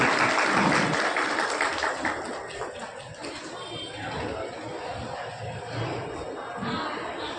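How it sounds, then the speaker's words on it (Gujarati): An audience at an Ahmedabad community get-together of the Zalawad barber caste trust breaks into loud, steady applause that starts strongest and then settles into continuous clapping throughout. "જોરદાર તાળીઓથી વધાવશો"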